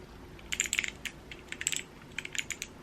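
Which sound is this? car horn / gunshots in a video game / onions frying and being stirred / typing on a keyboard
typing on a keyboard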